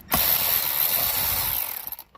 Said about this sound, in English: Okay, now let's take the T30. I got the drill.